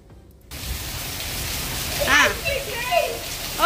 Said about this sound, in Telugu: మిట్ట మధ్యాహ్నం వర్షం పడుతుంటే పిల్లలు చూడండి ఎంత బాగా ఆడుతున్నారో